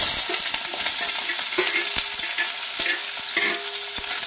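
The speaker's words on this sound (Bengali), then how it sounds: "পেঁয়াজটা এখন লাল করে ভেজে নেব।" Finely chopped onion frying in a pan while being stirred for a Bengali bharta, a steady close sizzle with occasional scraping strokes of the spatula throughout.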